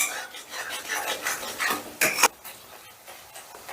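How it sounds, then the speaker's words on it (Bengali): Spice masala for a yogurt chicken dish is stirred and sautéed in a pan, giving soft scraping and rubbing strokes with a few sharper clinks of the utensil, close and fairly quiet. "এবারে এটাকে বেশ ভালো করে কষে নেব যতক্ষণ না মশলাটার থেকে ঠিকঠাক তেল ছেড়ে দিচ্ছে ততক্ষণ কষতে থাকবো"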